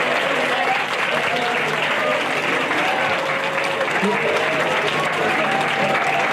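Audience applause at a lecture hall conference, a dense, steady clapping from many hands that holds at full strength throughout, close and loud with no speech over it.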